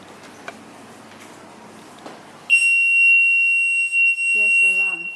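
An EAS anti-theft RF antenna security gate alarm switches on abruptly and holds a loud, steady high-pitched electronic tone, briefly interrupted once, with a voice speaking underneath near the end.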